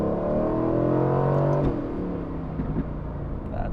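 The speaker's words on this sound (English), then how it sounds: "let's do the highway acceleration" An Aston Martin car accelerating on a highway in New York City, a close engine drone rising in pitch, then easing off into quieter road noise, with no talk.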